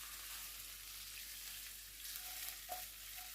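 Chorizo frying in olive oil in a hot pan, a steady close sizzle with a few brighter spits and pops toward the end.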